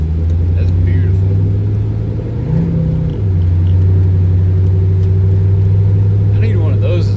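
A Chevrolet Camaro LT1 at a Hutchinson cars-and-coffee meet rumbles with a deep, steady engine drone, briefly shifting pitch partway through, while people talk over it.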